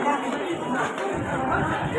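Dense crowd chatter fills a packed passenger train from Mumbai to Goa, many overlapping voices murmuring steadily close by, with a low rumble of the carriage beneath.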